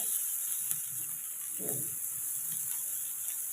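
Snake gourd is stir-fried in a pan over medium heat with a faint, even sizzle and hiss. A brief scraping stir stands out in the middle, and no one speaks.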